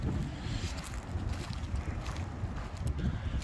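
Gusty wind blows outdoors near a house roof, buffeting the microphone with a steady, loud rumble that swells and dips throughout, with no clear voice.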